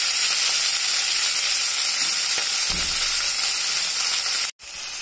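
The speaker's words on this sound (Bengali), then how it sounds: "এটা আগে একটু ভাজি দেব" Chopped onion and ginger-garlic paste frying in two tablespoons of hot oil, a loud continuous sizzle close up with faint stirring scrapes, ending in a sudden brief cut.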